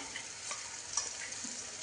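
A coarse peanut, green chili and garlic paste goes into a pan of hot oil with turmeric while making okra bhaji, giving a soft, steady sizzle with light stirring scrapes, fairly faint and without voices.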